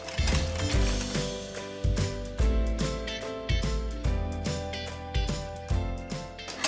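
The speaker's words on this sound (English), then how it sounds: "mix this until it is well combined" A mixer blending pumpkin pie filling until combined, giving a steady mechanical whir with a rhythmic, ratcheting pulse about once a second, close and fairly quiet.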